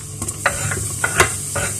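Garlic and onions frying in a little sesame oil, a low sizzle broken by several sharp stirring scrapes and clinks at irregular intervals, close up and with no voices.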